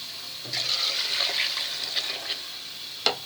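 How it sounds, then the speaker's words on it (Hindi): About 2 litres of water splashes and pours steadily into a pot of chicken biryani masala for a few seconds, ending with a couple of small clanks. "इसमें 2 लीटर पानी डाल देना।"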